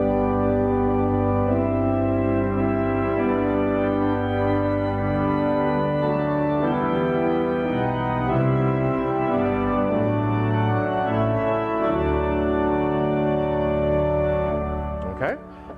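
A hymn played on a two-manual pipe organ, its melody carried an octave higher on swell reeds, sounding as sustained, steady full chords that hold continuously throughout and end with a brief release.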